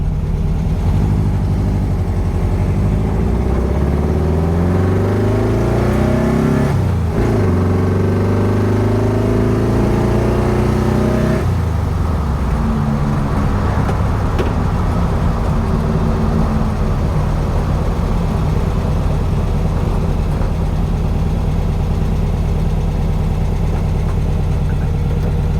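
A 1964 VW Karmann Ghia outlaw-build engine on its first road test rumbles loudly and steadily. Its pitch sweeps up through the gears, drops at a shift, then settles into a continuous gritty drone with no voices.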